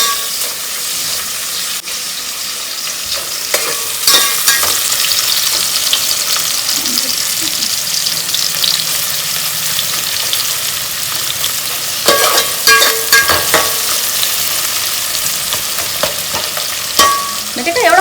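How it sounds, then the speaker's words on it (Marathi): Vertically sliced onion sizzles and hisses in a hot pan while being stirred, with scraping spoon strokes and sharper crackles breaking through a loud, continuous fry. The onion is cooking for Maharashtrian coconut rice. "आता यामध्ये टाकायचा आहे कांदा, उभा चिरलेला कांदा. तो चांगला परतून घ्यायचा आहे कांदा"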